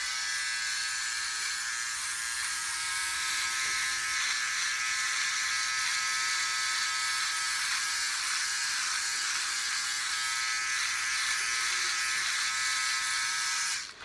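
A Philips OneBlade electric razor runs continuously with a close, steady high buzz that shifts slightly as it moves over the face, cutting off at the very end.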